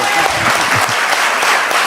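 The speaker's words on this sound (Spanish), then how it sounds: "Yo creo que Él se merece un fuerte aplauso." A church congregation bursts into loud, steady applause after a Spanish-language sermon, dense clapping filling the whole stretch with no voices over it.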